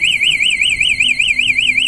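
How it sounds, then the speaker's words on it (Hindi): A Honda CG 125 motorcycle's security alarm sounds loud and close, a continuous warbling electronic siren that rises and falls in a fast steady cycle. "ये इसका साउंड अलार्म सिस्टम है।"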